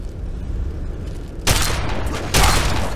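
Gunfire in the Fallout 3 video game: two loud, sharp bursts of shots crack out over steady background noise, with no talking.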